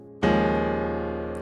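A single sustained piano chord, a 4/5 voicing, struck once and left to ring, close and clear, slowly fading with no talking.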